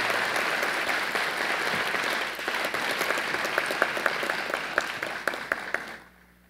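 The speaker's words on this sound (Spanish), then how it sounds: "Demos otro cálido aplauso a este grupo de docentes distinguidos de las preparatorias Ibero Puebla e Ibero Tlaxcala." An audience at a university course inauguration applauds a group of teachers, a dense, warm wave of clapping with a few sharper individual claps near the end before it cuts off abruptly.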